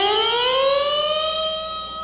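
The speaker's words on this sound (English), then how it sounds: "So you get a real low note to high note effect with the bar." An electric guitar note rises smoothly from low to high as the vibrato bar is released and the string bent up a whole step, sustaining loud and clear like a siren's climb.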